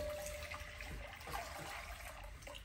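Water runs from a tap into a cooking pot in a home kitchen, a continuous soft gurgling stream, close and fairly quiet, with no talking over it.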